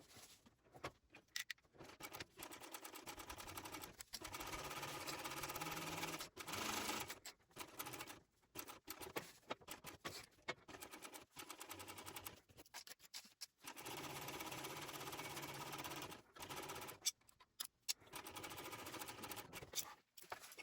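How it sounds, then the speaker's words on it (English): Domestic sewing machine topstitching a double stitch along the top edge of a faux trim slip pocket on a shoulder bag, its motor whirring in steady runs broken by brief pauses. "Now I am going to stitch it at 1/8 inch across the top"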